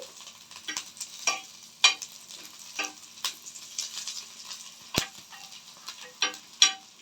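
Green chilies and garlic cloves are stirred in a hot pan, producing a light sizzle under scraping strokes of a spoon at an irregular pace, close and fairly quiet.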